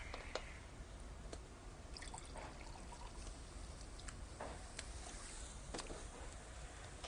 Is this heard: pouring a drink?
yes